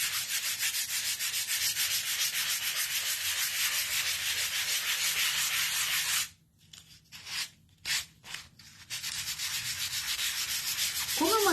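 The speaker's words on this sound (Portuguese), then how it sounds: "eu vou pegar a minha lixa e vou fazer em tudo movimento circular" Fine P400 sandpaper rubbed by hand in circular motions over a picture frame gives a steady, close, loud scratchy hiss that stops briefly midway, returns in a few short strokes, then resumes.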